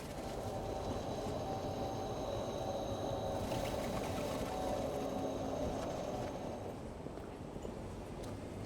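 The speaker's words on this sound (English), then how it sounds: "I love the older trams." An older tram rumbles past on a Prague street, a steady loud rolling drone with faint metallic squeals above it, holding close and even throughout with no voices.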